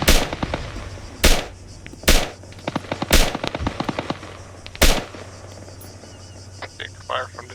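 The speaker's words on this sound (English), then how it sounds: "Big fire from the Dishka" Heavy DShK machine gun fire in a video game: several loud, booming broadband bursts spaced about a second apart over a steady engine drone, with scattered smaller crackles between.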